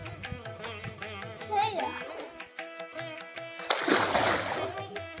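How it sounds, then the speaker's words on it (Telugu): Children swim and splash in a temple pond fed by borewell water, with a loud burst of splashing and sloshing near the end and background chatter of kids and voices throughout. "ఇక్కడ ఈత కొడుతున్నారు పిల్లలు"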